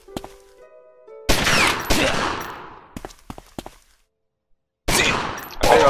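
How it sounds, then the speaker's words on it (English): Bursts of gunfire shoot down a gangster in Omerta: City of Gangsters, sharp close shots and rapid volleys separated by near-silent gaps, with a tonal game cue at the start. "Let's get the PPCC to light this gangster out with a few bullets"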